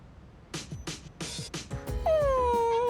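A dog in Persona 3 Reload gives a few short yips and barks, then a drawn-out, wavering whimper that carries on near and fairly loud, with background game sounds beneath.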